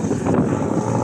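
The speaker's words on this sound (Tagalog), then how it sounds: "sobrang lakas ng hangin kitang kita naman" Strong wind roars steadily against the microphone during a thunderstorm with heavy rain, a dense low rumble with no pauses across the short stretch.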